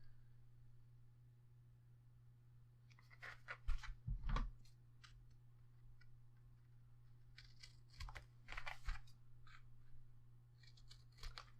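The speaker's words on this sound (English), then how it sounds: "follow my pencil lines and cut off my corners" Scissors snip through chipboard corners along pencil lines, leaving a small gap, in close, quiet bursts of crisp cutting around the third to fourth second and again near the eighth, over a steady low hum.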